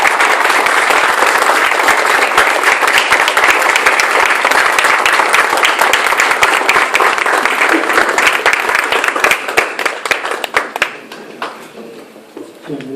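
Audience applause at a Spanish-language talk, with a standing crowd clapping loudly and steadily for about ten seconds before the clapping thins out and fades near the end.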